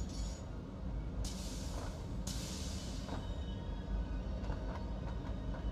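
A train rumbles along rails in the factory-building video game Satisfactory, a steady rolling noise with a couple of brief hissing bursts from the wagons, and no one speaks.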